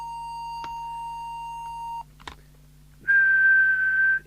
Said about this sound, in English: So we'll just do a quick whistle test.